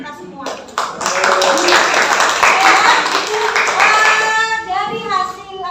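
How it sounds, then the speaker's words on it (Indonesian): Loud, close clapping from a classroom of students after a group presentation during teaching practice, lasting several seconds, with children's voices talking before it and again over its tail. "Kelompok yang terakhir dan tepuk tangan untuk kita semua."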